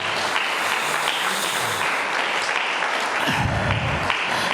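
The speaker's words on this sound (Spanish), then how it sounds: "denle la ofrenda de aplauso al Eterno" A church congregation applauds during a Spanish-language sermon, a dense, steady wash of many hands clapping at once that holds at an even level throughout.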